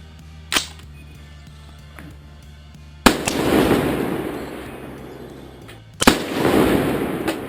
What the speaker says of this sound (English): I decided to take two final shots aiming right about here just in case.